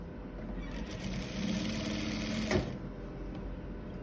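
A sewing machine runs steadily, stitching along a three-centimetre line on a collar placket. The hum rises briefly and ends with a short clunk near the end, and no one speaks.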